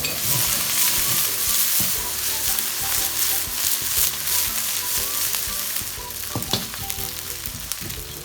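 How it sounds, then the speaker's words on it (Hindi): Onions and green onions hit hot oil in a preheated pan for restaurant-style chilli chicken with gravy, a loud, close, continuous sizzle with stirring scrapes and clatters throughout. "अब इसमें हम डालेंगे अपने ये वेजिटेबल जितने भी हैं, प्याज और ग्रीन प्याज।"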